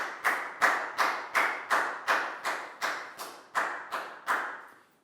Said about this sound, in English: a big round of applause for Lakdam too